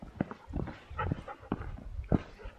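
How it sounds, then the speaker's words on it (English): A mountain dog trots close behind hikers on a Himalayan trek, with rhythmic padding steps and soft rustling heard nearby at moderate volume. "So this dog is following us"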